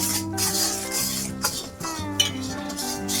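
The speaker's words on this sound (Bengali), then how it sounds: "এবার এটাকে ভালো করে ফুটিয়ে নেব" Jaggery mixture bubbling in a pot while a spoon stirs and scrapes, with clinks of metal against the pan and soft tonal hum in the background, close and moderately loud.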